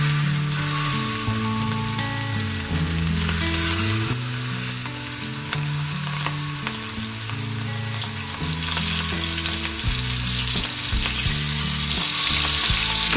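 Masala-coated prawns for Prawn 65 fry in hot oil, a loud, continuous crackling sizzle with occasional stirring, sustained throughout without any voices.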